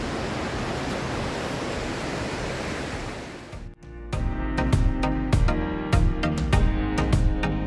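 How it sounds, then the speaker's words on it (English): Broad steady roar of surf on an empty Padukere beach near Udupi, which gives way midway to a closer rattling with a series of sharp knocks and thumps. "So here we are at the Padukere beach, just one part of the Padukere beach."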